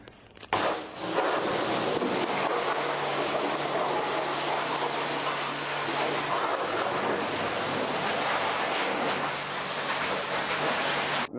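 Water spray hosing down the underside of a motocross bike around the engine, brake calipers and swing arm, a loud continuous hissing rush that starts abruptly and holds steady throughout with no talking.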